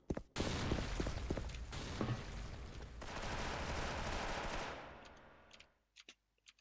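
The Nine Barrel gun in the Special Force video game fires a loud, continuous rapid burst for about four seconds, then cuts off, followed by a few scattered faint clicks and shots.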